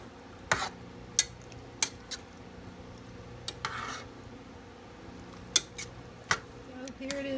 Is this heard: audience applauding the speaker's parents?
no